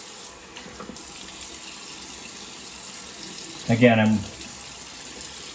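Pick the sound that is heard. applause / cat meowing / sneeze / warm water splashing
warm water splashing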